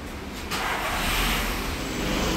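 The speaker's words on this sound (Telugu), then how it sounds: "సో కార్ స్టార్ట్ చేసి స్టీరింగ్ అనేది అటు ఇటు మూవ్ చేస్తారు." A VW Vento car engine starting and running, its broadband roar stepping up in loudness after a brief moment and holding steady and close throughout.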